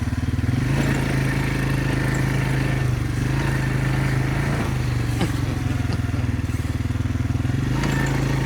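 An ATV engine drones loudly and steadily while driving off-road along a forest trail, with a constant low rumble, rattling clatter and small bumps over rough ground and no pauses.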